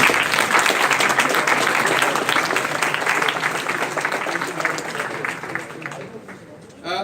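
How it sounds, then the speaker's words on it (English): An audience at a moot court event, the 31st Vis Moot round of 32, applauding for Heidelberg: dense, sustained clapping from a crowd that slowly thins and fades toward the end. "we better have another round of clapping for Heidelberg"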